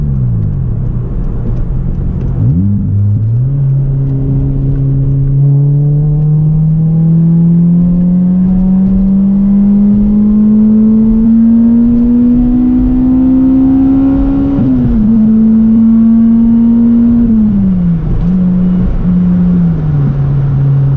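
A 2005 Toyota Corolla XRS with a new axle-back exhaust revs up steadily accelerating up an on-ramp, its throaty exhaust note climbing in pitch for several seconds, dipping briefly, then rising again, loud and close.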